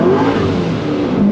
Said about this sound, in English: Not speeding, just excessive acceleration